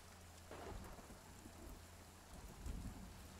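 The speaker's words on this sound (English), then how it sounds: "Oh, I'm hearing lightning." Thunder rolls during a rainstorm in the video game Sons of the Forest, quiet low rumbles over steady rain, with a slightly stronger swell near the end.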